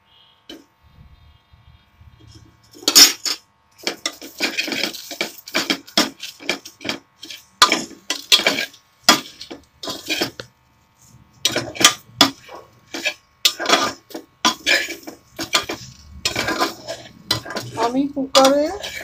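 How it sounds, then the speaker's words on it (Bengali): Vegetables go one by one into a pressure cooker over spice that was dry-roasted without oil, with irregular clattering of metal pot, lid and utensils throughout. "এবারে আমি এক এক করে ভেজিটেবলগুলো দিচ্ছি।"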